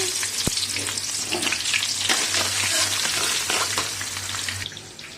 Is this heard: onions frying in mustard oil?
yes